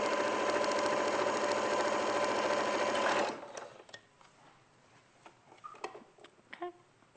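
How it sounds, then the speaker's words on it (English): A sewing machine runs steadily for about three seconds, stitching a straight line across fabric, then stops, leaving faint handling clicks and rustles. "So I'm just going to sew straight across."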